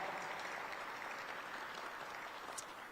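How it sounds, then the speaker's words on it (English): Audience applause at a city's 2025 State of the City address, a steady dense wash of many hands clapping at moderate level for about three seconds, with no talking over it. "Let's give a round of applause to our young people."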